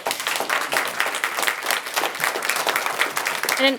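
Audience applause at a Roseville, California city council meeting, irregular bursts of clapping from a modest crowd, with a voice briefly rising at the very end.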